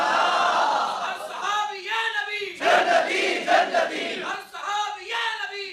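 A large religious gathering chants a slogan in unison, with a leader calling and the crowd answering in loud, rhythmic waves of massed voices.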